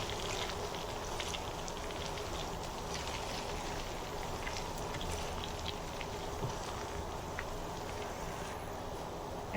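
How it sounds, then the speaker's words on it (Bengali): Hog plums frying in hot oil give a soft, steady, even sizzle and crackle that continues at low volume throughout, with no talking. "আমড়াগুলো তেলে ভেজে নিলে স্বাদ বেড়ে যাবে, এজন্য আমি আগে থেকে একটু ভেজে নিচ্ছি।"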